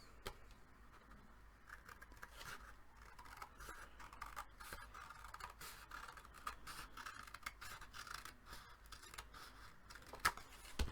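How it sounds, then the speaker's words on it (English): Faint, repeated snips and scraping of scissors cutting through paper, close and quiet, with small rustles between cuts. "And then I just took scissors"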